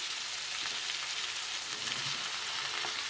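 Cauliflower and potato pieces fry in a pan at home, giving a soft, even, continuous sizzle like light rain, quiet and close, with no voices.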